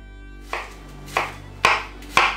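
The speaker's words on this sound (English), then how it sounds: "we're going to chop up a few onions over here. This is a nice big Vidalia onion" A knife chopping a big Vidalia onion on a board: four crisp, evenly spaced cuts, close and clear over a low steady hum.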